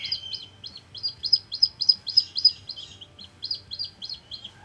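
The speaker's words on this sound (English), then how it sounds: "Didn't know that red-tailed hawk sounded like that." Red-tailed hawk gives a rapid series of high, thin chirping calls in two bursts, fairly close and clear over a quiet outdoor background with a faint low rumble.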